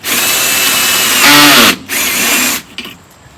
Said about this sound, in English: I'm just gonna pre-drill a hole towards the back.